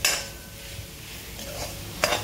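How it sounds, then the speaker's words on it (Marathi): A spoon scrapes and clinks against a pan as grated coconut is stirred with ghee, with soft scraping strokes and a sharper metallic knock near the end over a faint background hiss. "तूप आणि खोबरं हे मी एकत्र करून ते चांगलं मिक्सचर करून घ्यायचं"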